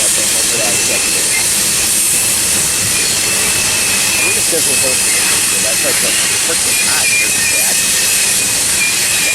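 A freight train rolls past at Tehachapi with a loud, unbroken roar and hiss that fills the whole stretch at even strength. Someone talks briefly over it.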